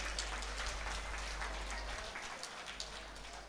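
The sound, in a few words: audience applause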